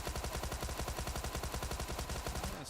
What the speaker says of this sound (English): Spraying it through, cutting the grass,